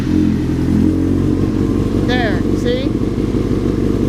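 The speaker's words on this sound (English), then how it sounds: "While it's in neutral, you can go ahead and start it, listen to the engine, and see how it sounds." A motorcycle engine idles in neutral with a steady low throb close by, rough and continuous, while someone talks briefly over it.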